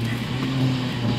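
A car engine idles with a steady, low, droning hum that holds at an even level for just over a second, close by, with no voices over it.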